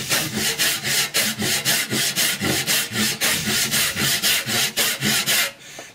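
A hand saw cuts through wood in a steady rhythm of about fourteen even push and pull strokes, close and alone, with the rasp of the teeth on each stroke.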